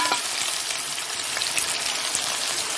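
Onion frying in a pan, a dense steady sizzle filling the clip from start to finish at even loudness, with faint stirring scrapes and no voices.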